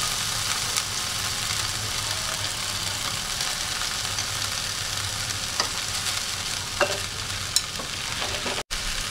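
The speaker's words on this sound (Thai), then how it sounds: "ย่างเบคอน" Bacon strips fry in a pan with a steady, moderate sizzle and occasional small pops and crackles over several seconds, without any voices.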